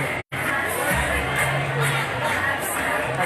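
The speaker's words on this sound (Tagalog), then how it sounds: "Oh, palakpak." A crowd at a company Christmas party cheers and claps continuously during a dance contest, a broad sustained roar of voices and hands with scattered shouts.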